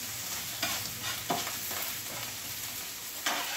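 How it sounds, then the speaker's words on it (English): Mushrooms and onion fry with a constant sizzle on a small cooktop, broken by a few quick scraping stirs. "Now I need to stir my mushrooms."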